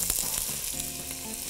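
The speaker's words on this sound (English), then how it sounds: "So to that same pan, we're gonna add in 1 onion that I diced" Diced onion sizzles in a pan still hot from searing chicken thighs, a steady bright frying hiss that runs continuously and close for a brief moment, with no voices.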